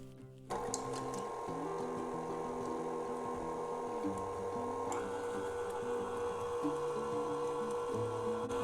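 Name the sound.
electric mixer mixing buckwheat waffle batter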